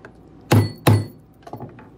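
A hammer strikes a steel center punch twice in quick succession, doming a metal disc for a stamped button cover: two sharp, close, solid thunks with a brief ring, then a few faint light clinks.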